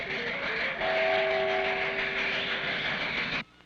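A cartoon train runs loud and steady with a rumbling rattle and a sustained whistle tone, close and continuous for over three seconds before cutting off abruptly.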